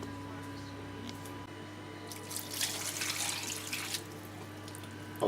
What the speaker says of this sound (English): I'll put more beef stock